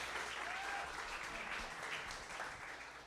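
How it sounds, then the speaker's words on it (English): Audience applause after a high school football coach's show segment, a steady wash of clapping from a crowd, moderately distant and even throughout with no voices on top. "Yes, round of applause."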